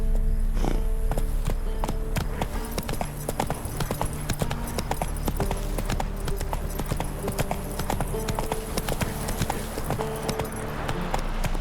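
A horse's hooves pound rhythmically in The Witcher 3, a rapid, close clip-clop running throughout over a steady low game soundscape.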